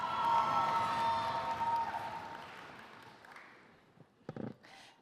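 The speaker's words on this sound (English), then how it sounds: "you're applauding, yelling, that's my baby" Ceremony audience at an achievement celebration clapping and cheering, a broad wash of applause that fades over several seconds, followed by a few scattered louder claps and calls near the end.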